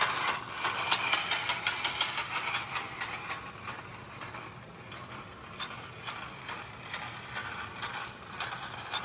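An O gauge model train locomotive that needs running in, with dirty wheels, whirs and rattles steadily for several seconds, a close, busy mechanical buzz with a faint ratcheting pulse and no talk.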